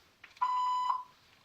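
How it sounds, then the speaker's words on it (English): A voicemail beep sounds once, a steady tone of about half a second with faint line noise around it and no speech. "Please leave a message after the beep."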